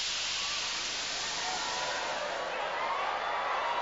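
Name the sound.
jet pods releasing smoke in the Gladiator Arena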